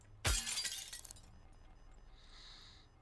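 Glass shatters in a video game: one sudden, loud crash followed by about a second of tinkling, scattering shards, then quiet with a faint high hum.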